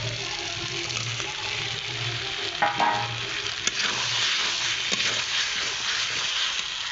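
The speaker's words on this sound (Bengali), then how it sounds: "ভেজে রাখা আলুগুলো দিয়ে দিয়েছি এবার মশলার সঙ্গে আমি ভালোভাবে কষিয়ে নেব" Fried potatoes and paneer sautéing with spices in a pan, a steady sizzle with occasional spoon scrapes and stirring clatter, close and continuous with no talking.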